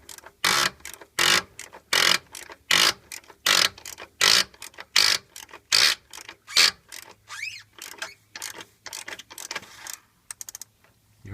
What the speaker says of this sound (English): Let's go ahead and loosen this slowly.